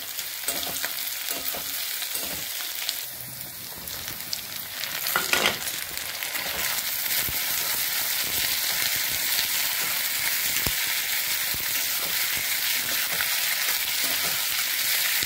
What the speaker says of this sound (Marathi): हे आता धुवून मस्त भाजून घ्यायचे असे तेलामध्ये